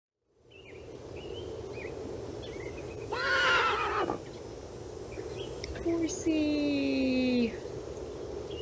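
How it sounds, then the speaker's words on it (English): Horse neighing in the Nancy Drew game Secret of Shadow Ranch, a loud whinny over outdoor ambience with insects and birds, followed by a second drawn-out horse call. "Horsey."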